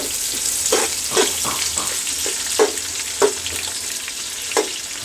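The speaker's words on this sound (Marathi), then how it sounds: "आता कांदा थोडा परतून घेतलेला आहे" Onions sauté in a pan for homemade chicken biryani with a steady sizzle, close by. Occasional sharp spoon clinks and scrapes come from stirring.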